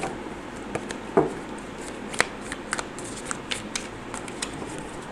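Oracle cards being shuffled by hand during a card reading, a continuous papery riffle with soft slaps and a few sharper snaps, close and fairly quiet, with no talking.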